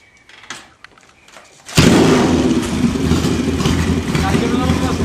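A small engine fitted with a JS flatside carburetor starts after a few faint cranking pulls, then catches and settles into a loud, steady idle running close by.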